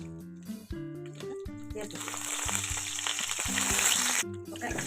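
A tempering of mustard seeds, garlic and chana dal fries in hot oil for a beetroot palya; a voice and tonal sounds come first, then a loud, crackling sizzle swells and stays close and intense.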